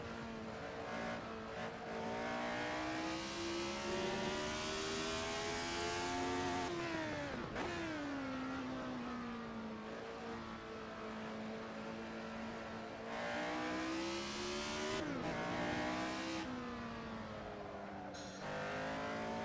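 An underclassed race car in a racing video game, engine droning loudly and steadily with gliding pitch through repeated sharp downshifts and revs as it works through corners, no talk.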